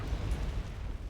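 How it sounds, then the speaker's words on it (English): Artillery shells land and explode in Wargame Red Dragon, a muffled, rumbling low boom with a dull, sustained roll, fairly faint and without any talk over it. "Shells are still landing."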